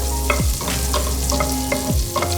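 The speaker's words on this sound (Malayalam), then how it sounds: "മണമൊക്കെ വരുന്നിടം വരെ ഒന്ന് ഇളക്കി കൊടുക്കുക" Spices with mixed garlic and oregano powder are stirred in a hot pan for white sauce pasta, giving a steady close sizzle with scraping strokes of the spoon against the pan and no talking.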